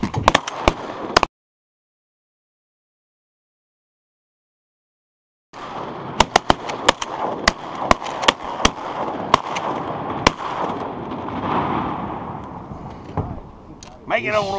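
Sharp shotgun blasts from duck hunting on Reelfoot Lake, Tennessee, cracking out in an irregular string of reports at moderate distance over outdoor ambience, with people talking between the shots.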